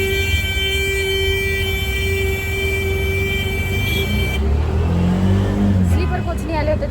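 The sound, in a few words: auto rickshaw ride in traffic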